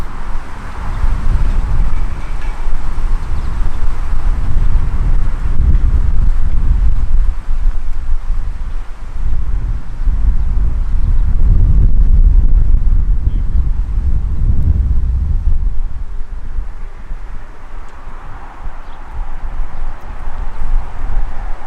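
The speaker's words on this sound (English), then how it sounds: "It's so windy," Strong wind buffets the microphone continuously beside an Aston Martin Vantage V8 N420, a deep rumbling roar that swells and eases throughout, with no voices.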